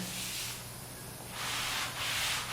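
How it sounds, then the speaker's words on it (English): A painted white cabinet finish gets a very light hand sanding, soft rasping strokes in two or three even passes, close and gentle with no talk. "A very soft sand"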